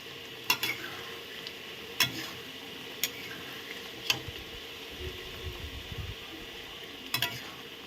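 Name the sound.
stirring moong dal with bottle gourd greens and ghee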